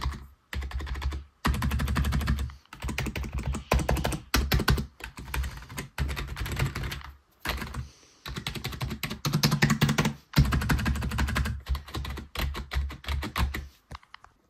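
Rapid, continuous typing on a SteelSeries Apex 3 TKL membrane keyboard, soft, slightly mushy key presses in bursts separated by brief pauses, close and fairly loud, no voices.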